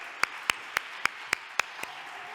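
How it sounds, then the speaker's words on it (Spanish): A few slow, evenly spaced hand claps at a Spanish-language conference on inequality and global justice, about seven sharp isolated claps over low room noise with no speech. "os voy a pedir un aplauso para Susana y para Shakin."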